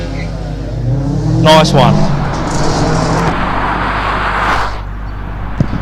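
A restricted Subaru WRX hillclimb car crosses the finish line at the Legend of the Lakes hillclimb, its engine a loud nearby rev that passes and fades under steady background noise, while a commentator talks over it.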